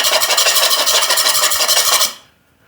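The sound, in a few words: butter knife scraping a vinyl plank floor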